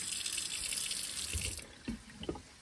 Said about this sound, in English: I just ran some cold water down to stop the cooking process